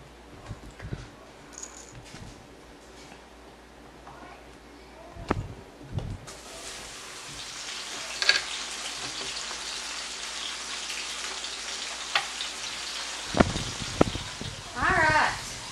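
Mushrooms and onions sizzle in a skillet, a soft, steady frying hiss that grows louder partway through, with occasional clatters of utensils and a person talking over it.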